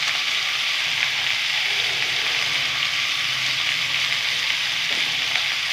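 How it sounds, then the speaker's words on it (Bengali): Vegetables seasoned with turmeric and salt fry in a pan with a steady, close sizzle. Faint stirring scrapes can be heard throughout. "আবার ভালো করে আমি একটু ভালো করে নেড়ে চেড়ে নেব সবজিটা, যাতে কিছুটা মজে যায়।"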